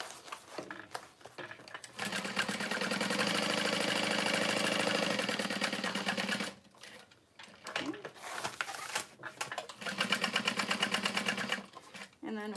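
A sewing machine runs in long continuous bursts while stitching a tote bag, its steady motor whir broken by short pauses for pivoting and backstitching, with a voice talking between runs.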